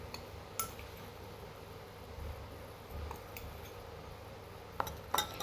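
A spoon stirring ground cumin into raw cow's milk in a glass gives soft swirling sounds under a low background hum, broken by a few sharp clinks against the glass near the end.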